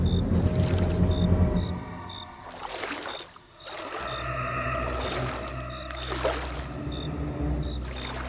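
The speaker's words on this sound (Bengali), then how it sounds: "তাড়াতাড়ি নৌকার উপর উঠে খুব জোরে জোরে দাঁড় বাইতে লাগলো।" Oars pull a rowboat through river water in steady, rhythmic strokes. Each stroke lands as a splashing burst about every one and a half seconds over a continuous tonal background.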